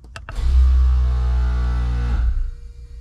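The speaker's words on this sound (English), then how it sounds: "this should be air compressor." A small air compressor in a homemade automatic tire inflator/deflator rig, back-fed through a relay, clicks on and then hums steadily and loudly for about two seconds before shutting off.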